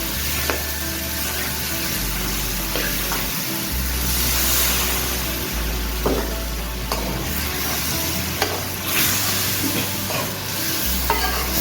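Eggplant and taro pieces sizzle in hot oil in a pan for an aloo baingan arbi salan. A steady frying hiss carries on alone with intermittent stirring scrapes and clatters.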